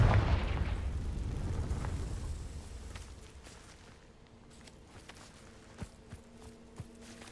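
A Confringo blasting spell from Hogwarts Legacy goes off as one loud, booming explosion that rolls and fades over a few seconds, leaving faint scattered pops and small impacts.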